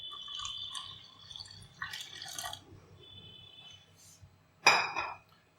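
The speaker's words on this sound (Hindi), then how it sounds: "इसमें पानी डाल देंगे" Water is poured from a utensil onto salt, coriander, chilli and turmeric for mutton korma, with soft splashing and light clinks of pots and spoons, then a brief louder pour near the end.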